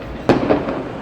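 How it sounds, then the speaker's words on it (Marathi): Firecrackers bursting outdoors on the eve of an election result day, one sharp loud bang followed by rumbling crackle and a second burst near the end, heard from indoors. "हे फटाके आजच उडायला लागलेत."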